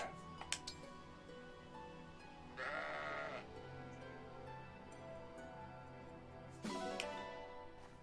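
Two distinct sheep bleats in the video game Fire Emblem Engage, one midway and one near the end, over a quiet background with a few faint ticks.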